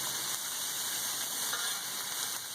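Vegetables sizzle on a hot home griddle with a steady, close, even hiss and crackle that carries on without pause or talk.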